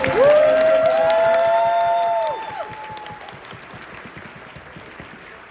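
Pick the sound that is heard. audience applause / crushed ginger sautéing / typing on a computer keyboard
audience applause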